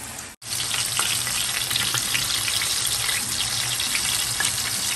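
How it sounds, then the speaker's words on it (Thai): Flour-coated fish fries in oil over low heat, giving a steady, dense sizzle and crackle close up that runs throughout after a brief drop near the start. "คลุกแป้งไว้เรียบร้อยแล้วนะคะหลังจากนั้นก็จะนำลงมาทอดนะคะ ไม่ต้องทอดไฟแรงนะคะทอดไฟอ่อนๆ นะคะ"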